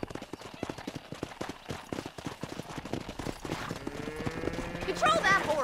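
Horse hooves clip-clop in rapid, uneven beats on a Red Dead Redemption cattle-herding ride, with rising wind and ambient game noise. Near the end a high whinny-like call comes in over the hoofbeats.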